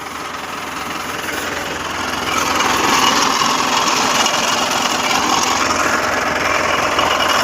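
A tractor engine idles at a farm field during pesticide spraying among brinjal plants, a steady broadband drone that grows louder after the first couple of seconds and holds.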